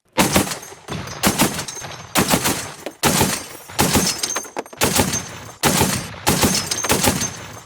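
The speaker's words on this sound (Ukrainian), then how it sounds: "Увага, вогонь! Постріл!" Bursts of heavy automatic gunfire from an anti-aircraft machine gun, loud and close, in several long volleys separated by brief pauses.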